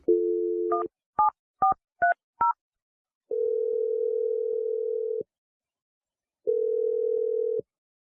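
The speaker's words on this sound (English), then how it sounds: "I'm going to dial the number right now." Telephone tones: a dial tone, then five quick DTMF keypad beeps, followed by two long ringback tones separated by silence, clear and alone.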